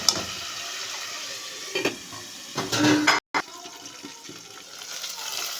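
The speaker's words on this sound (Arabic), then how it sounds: "تشمون الريحة شلون حمص اللحم" Meat frying in a pot while being stirred, a continuous sizzle with scraping and stirring bursts that swell briefly near the middle, cut by a short silent gap.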